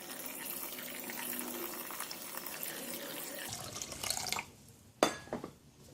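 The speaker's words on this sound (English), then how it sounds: "I'm going to put water." Water poured into a pot of rice for nasi lemak makes a steady splashing stream that cuts off near the end, followed by a sharp clink and a few faint drips.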